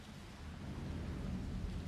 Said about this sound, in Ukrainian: Ото дощ іде.